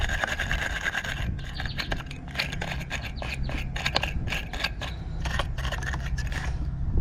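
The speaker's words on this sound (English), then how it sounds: "I'm going to scrub all this lead right here and make it nice and raw." A wire brush or scrubber working over the lead of a battery cable terminal on a 1990 vehicle: quick, repeated scratchy strokes, close up, over a steady low hum of background noise.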